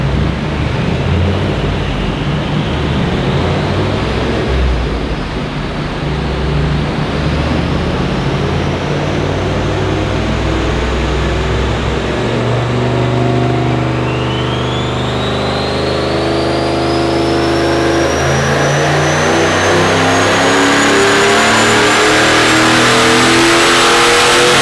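A turbocharged LS1 engine in a ute revs hard and continuously at close range on a dyno power run, climbing steadily in pitch with a rising whistle from the turbo, loud throughout.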